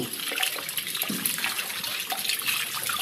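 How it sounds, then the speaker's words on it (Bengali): Elephant foot yam (ol) is rinsed clean of soil in water on a farm, giving a continuous close splashing and sloshing with small irregular surges throughout. "এই যে ওলটা ধুয়ে নিচ্ছে একেবারে ক্লিয়ার করে মাটিতে"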